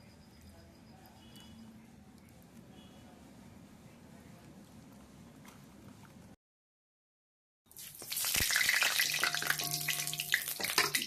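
Cumin and dried chili tempering in hot oil, a quiet hiss that cuts out briefly, then bursts into a loud, bright, crackling sizzle close by.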